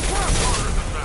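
Shotgun fire in the video game Mass Effect 2, a dense loud burst of blasts filling the whole short stretch, close and harsh with no gaps.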